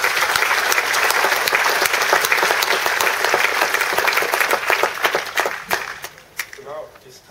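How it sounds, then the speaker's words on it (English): Audience applause at the close of a conference presentation on aids to navigation heritage, sustained dense clapping from a large crowd that thins out toward the end. "I want you all to join me with an applause"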